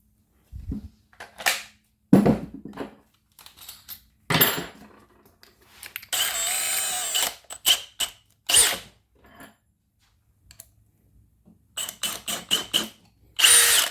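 A Milwaukee Gen 4 drill driving a screw makes short, loud whirring bursts with clicks and clattering handling sounds between them, one longer sustained spin in the middle and quiet gaps throughout.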